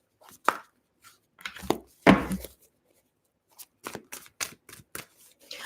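A tarot card deck being shuffled gives a string of crisp, close riffling and snapping bursts at irregular intervals, separated by short silences, with no voices.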